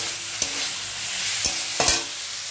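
Ridge gourd is sautéed with spices in a pan, a steady close sizzle broken by three distinct scraping strokes of a spatula.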